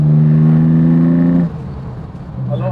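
A TVR Tuscan S engine accelerating hard, a loud droning rev that climbs for over a second before the throttle lifts and a quieter burble follows.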